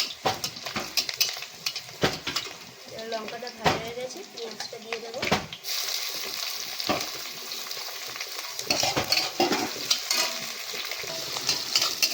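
Oil sizzling in a wok (kadai) in a home kitchen, frying with a steady hiss and occasional stirring clatter, under a woman's and man's conversation that comes and goes.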